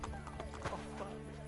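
A horse in the video game Assassin's Creed Brotherhood clip-clops along with a quick whinny mixed in, quiet and somewhat distant, with hoofbeats tapping in a steady gait.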